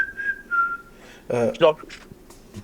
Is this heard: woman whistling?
yes